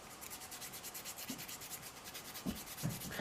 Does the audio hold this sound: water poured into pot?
no